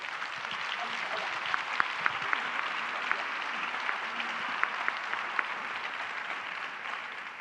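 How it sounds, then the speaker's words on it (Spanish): An audience claps steadily for several seconds at a Spanish panel discussion on feminism and the media, the applause dense and even with a few sharper individual claps standing out. "Así es que un aplauso para Rosa María."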